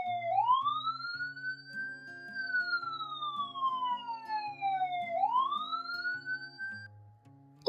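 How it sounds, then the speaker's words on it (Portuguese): A loud wailing siren sweeps up and down in long slow cycles, with a low rumbling hum running steadily underneath. "O editor, coloca aí para nós o sinal, a sirene,"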